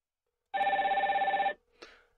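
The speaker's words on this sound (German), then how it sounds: "Sie hören, es klingelt erstmal." A single telephone ring lasting about a second, clear and close, followed by a brief click and then silence.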